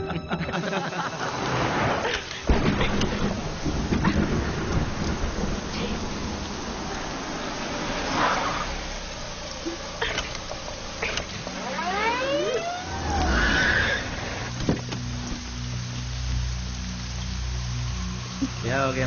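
Rain falls steadily in a soft, continuous patter around a car that won't start, with passing vehicle noise, a siren-like wail and people talking intermittently over the wet hiss.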